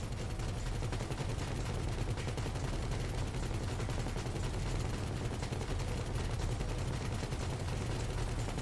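Dense, relentless automatic gunfire from a Grand Theft Auto V heist raid on Humane Labs, rapid overlapping bursts forming a continuous loud barrage with no pauses and no talk.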